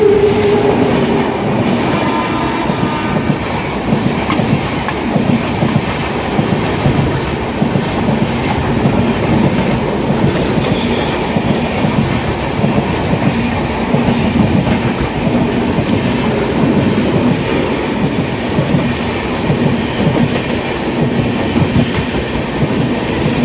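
Passenger train rolling fast as the Banaras Superfast from New Delhi overtakes a special train, a loud continuous roar of wheels with rhythmic clickety-clack and faint squealing, close and unbroken throughout.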